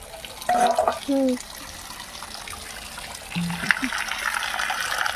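Water runs from a newly installed tap in a rural village, a steady hiss that picks up partway through, with brief voices heard over it early on.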